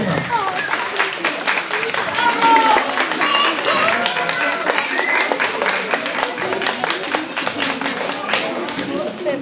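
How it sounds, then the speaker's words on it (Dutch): Parents in an audience give sustained applause at a school song-contest show, many hands clapping briskly with a few distinct nearby claps and scattered voices underneath. "Sta maar eens recht en geef ze maar eens een duidelijk applaus."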